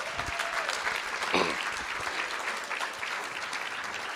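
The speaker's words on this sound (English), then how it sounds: "Let's give Ray a round of applause" A room of people at a school district board of trustees meeting breaks into steady, dense applause that holds evenly for several seconds, with a brief louder burst near the middle.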